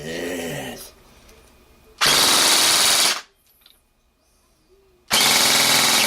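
A G&G AK-47 airsoft gun on an 11 volt battery fires full-auto bursts, two loud sustained rattling volleys separated by a quiet gap, close to the listener.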